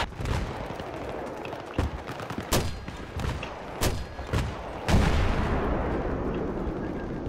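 Shotgun fire in Battlefield 3 team deathmatch on Noshahr Canals: several sharp, booming blasts spaced irregularly over seven seconds, mixed with other distant in-game gunfire and a steady background rumble.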